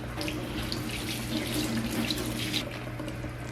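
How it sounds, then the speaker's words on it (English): A makeup brush is rinsed under a running bathroom or sink tap, a steady close rush of flowing water with faint splashing and no voices. "so I'm gonna go back and just rinse."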